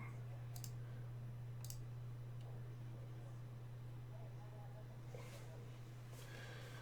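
A few faint, sharp computer mouse clicks, spaced several seconds apart, over a steady low electrical hum and hiss while Windows 7 is installed in VirtualBox.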